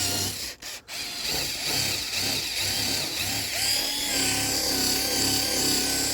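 Power drill fitted with a buffing and sanding pad working the scratched plastic headlight of a 12-year-old Equinox, a steady whirring grind with brief stops at the start, then continuous rotation close by.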